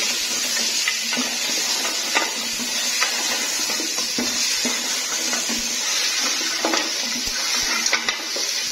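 Mutton with ghee frying in a pot over a medium-low flame for kunna gosht, giving a steady moderate sizzle with scattered light clicks and scrapes of utensils.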